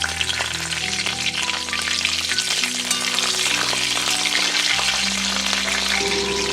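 Black cumin, a dried red chili and slit green chilies hit hot white vegetable oil in a pan, making a loud, steady, close sizzle and crackle throughout, with no talk.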